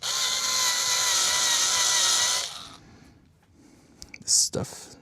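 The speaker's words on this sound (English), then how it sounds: "So I'm going to deburr it." Metal on a guitar amplifier chassis being deburred gives a steady, close grinding whir for a couple of seconds that then cuts off, followed by a quiet pause and one brief sharp scrape near the end.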